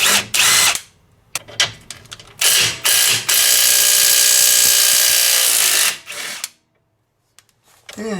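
A power impact tool spinning off the 17 mm lower damper bolt on a 2022 Toyota GR86 during a lowering-spring install. Several loud, short whirring bursts lead into one long sustained run, then a brief final burst and quiet.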